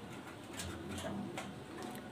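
A male Maltese pigeon coos in low, soft, continuous murmurs nearby over a constant hiss, fairly quiet throughout.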